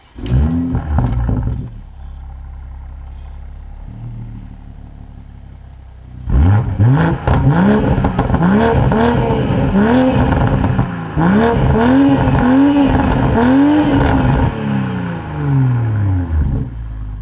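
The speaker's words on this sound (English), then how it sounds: "It has that typical smooth 6-cylinder snarl with those nice cracks and pop-ups from the exhaust." A 2020 BMW M340i's six-cylinder engine revs hard again and again, a loud, close, rising snarl that falls back between each blip of the throttle.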